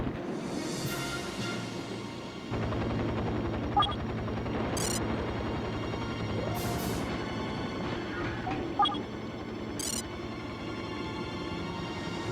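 A helicopter in the video game 007 Nightfire keeps up a steady droning rotor hum, joined by bursts of gunfire and a few sharp impact cracks, loud and close throughout.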